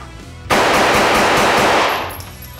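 Rapid, loud gunfire at targets during a hostage-rescue shooting drill with three bad-guy targets, erupting abruptly and sustained for about two seconds as a dense, continuous burst before tapering off.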